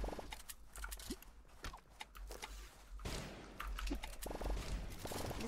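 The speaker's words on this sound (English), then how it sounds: "I hear shotgun." Shotgun blasts in a competitive online shooter scrim, several sharp booming shots scattered over a busy game soundscape of thuds and footsteps, moderately loud.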